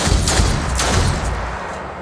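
Gunfire from the tactical video game Othercide crackles in a dense, rapid volley of overlapping shots, loud and close, lasting about two seconds with no speech.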